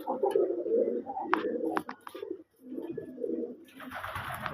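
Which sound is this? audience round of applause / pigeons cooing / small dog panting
pigeons cooing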